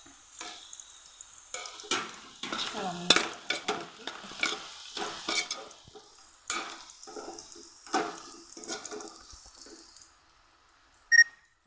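A spoon stirs jackfruit biryani masala with tomato in a pan, scraping and sizzling in a series of close, uneven strokes that ease off toward the end, with one sharp clink just before it finishes.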